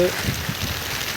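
Steady heavy rain hisses in a dense, even wash of noise with no clear breaks, fairly loud and close throughout, during fishing outdoors.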